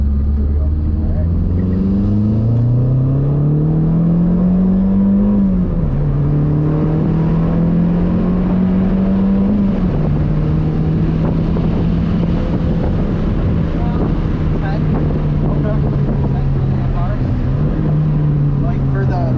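A Mazdaspeed 3 fitted with an Injen cold air intake accelerates through the gears, its engine drone rising in pitch and dropping at each shift, loud and steady under wind noise with people talking inside the car.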